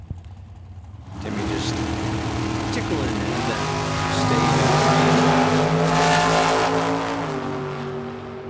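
Camaro drag race car on a Gebhardt chassis launching down the strip, a loud engine roar rising sharply from quiet and holding a strong, climbing tone before easing off near the end.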